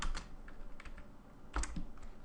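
Keys patter rapidly on a computer keyboard as a line of code is written, close and clear, a short burst of uneven taps with a heavier thump near the end and no speech.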